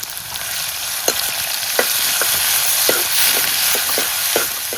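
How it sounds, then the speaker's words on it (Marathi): Thinly sliced onion and asafoetida fry in a hot tempering for chole masala, a steady close sizzle with a string of light, irregular clicks and taps throughout and no talking. "हिंग आणि कांदा टाकायचा. अशी मस्त खमंग फोडणी तयार करायची."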